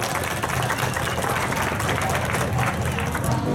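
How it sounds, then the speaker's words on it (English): An audience claps steadily for a Sri Lankan traditional dancer, a dense wash of applause with a low hum beneath it. "Give her a big round of applause."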